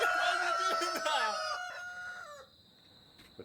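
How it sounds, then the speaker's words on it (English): A rooster crows loudly and close by, one long strained cock-a-doodle-doo that trails off, followed by faint background noise and a thin high tone. "Why's the rooster crowing so much, man?"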